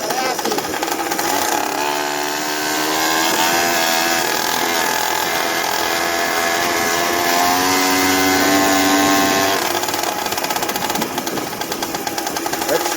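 A small 2-stroke motorized bicycle engine running on E85 fuel buzzes steadily up close, its raspy drone wavering in pitch as the revs rise and dip, with a voice talking over it at times.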